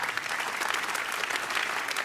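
Dense, steady applause from a forum audience of leaders, loud and continuous throughout.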